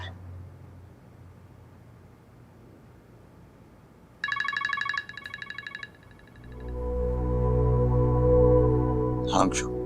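A phone ringtone chirps in a short burst of repeated electronic tones over quiet room noise, then a steady low hum rises as it continues ringing.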